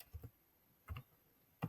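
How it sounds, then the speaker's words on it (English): A few keystrokes land on a computer keyboard as a Windows command is entered: three quiet, separate clusters of clicks with pauses between them, close by in a quiet room. "Just type the word Windows R and then type this command."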